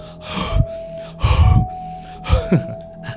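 A voice imitating heavy panting, like someone out of breath while hiking up a steep trail; three loud, close gasping breath bursts spaced about a second apart, with quieter breathing between them.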